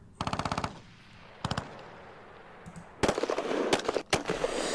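Machine gun fire from a World War II strategy game set in North Africa, 1941: a fast burst of rapid shots, a shorter burst, then a dense stretch of overlapping automatic fire and gunshots near the end.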